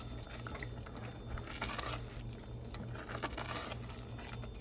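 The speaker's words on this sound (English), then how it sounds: "we're going to add 1 ladle at a time. So this is about ½ a cup of stock. And each time we're going to let it reduce down." Stock ladled into a risotto base simmers in the pan, giving a steady soft bubbling and patter that carries on evenly throughout.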